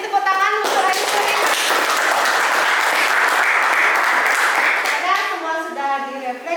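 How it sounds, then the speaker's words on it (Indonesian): A school class applauds a student during a classroom guidance lesson; a burst of many children clapping, loud and sustained for several seconds, with a teacher speaking before it and children's voices after it. "tepuk tangan untuk Yusuri"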